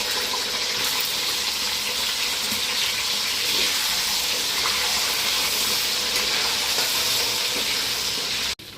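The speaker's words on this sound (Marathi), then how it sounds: "आता आपण ही वांगी तळून घेऊया त्याच्यात" Brinjal (eggplant) pieces frying in hot oil in a home kitchen, giving a loud, dense, continuous sizzle that holds steady and close throughout, with no talk.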